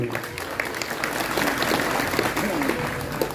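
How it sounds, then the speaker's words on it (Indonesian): Applause from a crowd at an Islamic sermon gathering in Ponorogo, welcoming the regent, with steady dense clapping throughout and voices mixed in. "Tepuk tangan untuk Pak Bupati."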